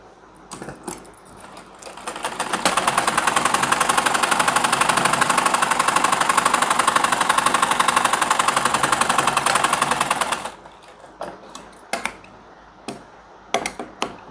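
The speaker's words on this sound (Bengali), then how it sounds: "এখান থেকে সেলাইটা দিয়ে দিব" A sewing machine runs a long, fast, continuous stitch along a trouser pajama seam, loud and evenly rhythmic for about eight seconds, framed by a few light handling knocks before and after.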